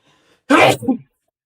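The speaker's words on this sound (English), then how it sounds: "I had to sneeze." A single short, explosive sneeze, close and loud, in an otherwise quiet moment.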